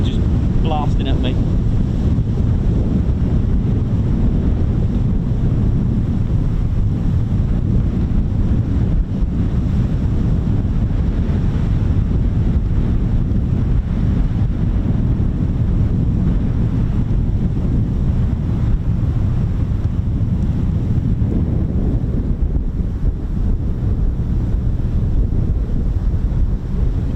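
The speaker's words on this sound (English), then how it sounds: "It's really hard to tell with this wind just blasting at me." Strong wind blasts the microphone continuously at a military airfield where F-35B jets are operating, a loud, unbroken low roar and rumble that fills the whole stretch with no pauses.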